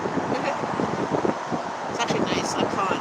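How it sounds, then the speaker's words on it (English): Wind buffets a microphone outdoors near a Starbucks, a gusty, rumbling roar that runs throughout with passing traffic-like swells behind it. "It's quite windy right now."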